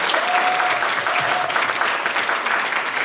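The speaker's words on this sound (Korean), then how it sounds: "사모님 한번 일어나서 응원의 박수 한번 부탁드릴게요" Steady applause fills a book launch concert hall in Sejong as the audience claps together, a dense, even wash of hands throughout with no speech over it.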